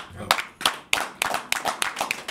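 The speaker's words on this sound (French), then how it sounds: "On va applaudir." Several audience members clap in a short, uneven burst at a French Caribbean music and entertainment event, the claps sharp and fairly close, irregular rather than a full applause.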